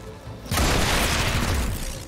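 A turret is shot in the video game XCOM Chimera Squad: a sudden loud, broad blast hits about halfway through and then rolls on as a sustained roaring rumble that fades only slightly before the end.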